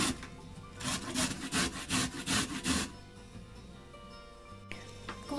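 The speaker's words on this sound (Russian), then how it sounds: "Морковь я чистила от кожуры, помыла предварительно ее и натираю на мелкой терке." Peeled carrot rubbed on a fine grater, about eight rhythmic rasping strokes in quick succession at close range, then quiet with a faint clink near the end.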